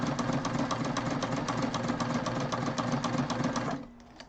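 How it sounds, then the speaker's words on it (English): A sewing machine stitches the folded side seam of a canvas backpack, whirring in a fast, even, close-up mechanical rattle that stops abruptly just before the end. "I am sewing the side that is folded together. I'm sewing that first so that it doesn't shift on us"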